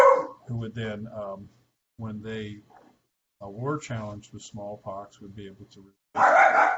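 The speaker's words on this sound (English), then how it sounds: "the attack dogs in the background. They're barking at somebody walking down the road" Attack dogs bark outside while a man lectures on smallpox and early vaccination; the barking stays faint and distant under steady speech, with a louder burst near the end.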